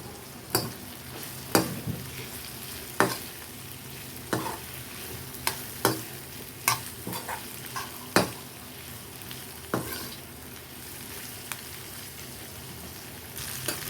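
Onions sizzle steadily in a pan until light brown for sambar while a utensil scrapes and stirs at regular intervals, about a dozen sharp strokes over the quiet frying hiss.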